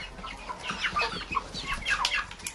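A young rooster clucks and chirps in a run of short calls at close range, with other domestic fowl faintly around and no talking.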